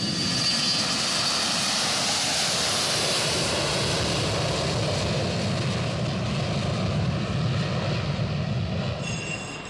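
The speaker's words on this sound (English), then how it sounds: "This Air Sucre pilot made a dangerously steep turn, low to the ground." An Air Sucre airplane makes a steep turn low to the ground, its engines giving a loud, continuous roar that stays close and steady throughout.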